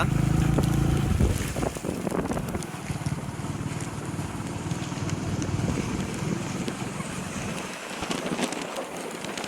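Monsoon floodwater from the Konkan farm fields rushes beneath the Bauddhawadi bridge during heavy rain: a loud, continuous broadband roar of flowing water with gusty wind buffeting, close and steady throughout.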